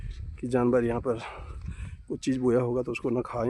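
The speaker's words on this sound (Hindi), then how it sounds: "जंगल में देखो कुत्ता भौंक रहा है" A dog barks in a hillside forest in Uttarakhand, giving two runs of drawn-out, howling barks close by, while someone talks between and under them.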